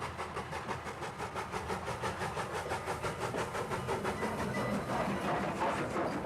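A Southern Pacific 482 Mountain-type steam locomotive pulls train 71, the Coast Mail, with a steady rhythmic chuffing and rolling rumble that pulses evenly throughout, fairly loud and unbroken.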